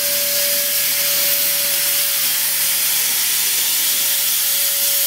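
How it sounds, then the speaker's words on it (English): Compressed air leaking from the nozzle of an air turbine spindle on a Haas CNC machine, a loud, continuous close-up hiss with a steady tonal whine running through it. "a lot of air leaking right here"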